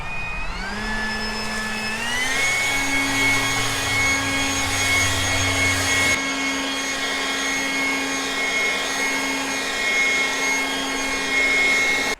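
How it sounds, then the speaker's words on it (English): A GROWORT cordless electric leaf blower runs steadily and loudly close by, its whine rising as it spins up in the first seconds and then holding a constant high-pitched roar. "As you saw, this leaf blower has a lot of power."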